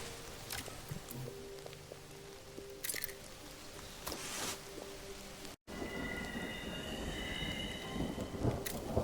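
Rain and rolling thunder from the video game Mind Over Magic, a steady broadband downpour with several loud thunder cracks, a brief cut midway, then continued heavy rain with faint tonal music underneath.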